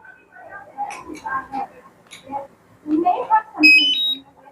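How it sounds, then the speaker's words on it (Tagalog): Short electronic beeps from a DJI Mini 4 Pro drone controller, a few quick high tones near the end, heard amid talking voices. "kapag may nag-beep sounds, ibig sabihin okay na siya"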